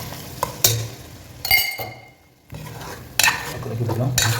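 Masala for a bottle gourd, potato and mutton curry is stirred in a hot pan, with bursts of scraping and sizzling strokes, a short quiet pause, then more stirring and clinks of the spoon close by.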